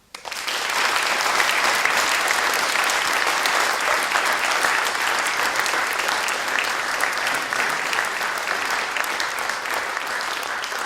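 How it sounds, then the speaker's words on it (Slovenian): Sustained applause from an audience at a formal ceremony for the Slovenian Culture Day in Šmartno pri Litiji, steady and dense throughout, with no talk over it. "vas vse naprošam za en aplavz"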